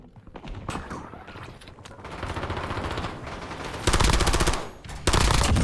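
Rapid automatic gunfire from a Call of Duty Warzone match, loud sustained bursts of machine-gun fire building up, with dense rattling volleys near the end.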